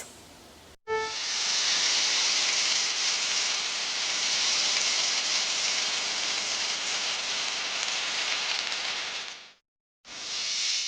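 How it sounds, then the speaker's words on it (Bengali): Chops deep frying in oil on a shop stove give a loud, steady broadband hiss and sizzle that runs unbroken for about nine seconds after a brief pause, stopping abruptly before a short resumption. "তনুশ্রী বিজয়ের দোকানে মঙ্গলদ্বীপ জ্বলেনি তবে চপ ভাজার উনুন সেখানে জ্বলেছে"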